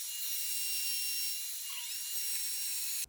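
Stock is cut on a Woodpeckers joinery sled set for a shallow 3/16-inch cut, a steady high-pitched machine whine running close and unbroken for the whole stretch.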